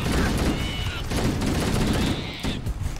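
Rapid gunfire from a Halo 1 firefight, dense overlapping bursts of shots that roll on steadily for about three seconds and ease slightly near the end.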